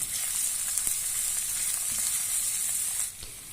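Sliced onion and chopped garlic frying in a pan for chicken biryani, a loud, continuous hissing sizzle heard up close with no voices, easing slightly near the end.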